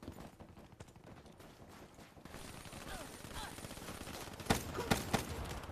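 Enemy gunfire in Black Ops 3 rattles on, scattered bursts growing closer and louder toward the end with a few sharp, punchy shots amid game noise.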